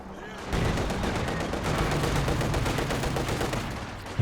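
Maxim and MP40 machine guns fire in a Company of Heroes 2 battle, producing a dense, continuous rattle of rapid automatic bursts that runs for several seconds, loud and close, with faint game noise beneath.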